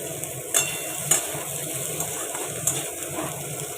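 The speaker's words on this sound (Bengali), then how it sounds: "ওই কুমড়োটা একটু ভাজা ভাজা হোক" Steady oil sizzle of vegetables frying in a pan, with a few sharp spatula scrapes and clinks at intervals.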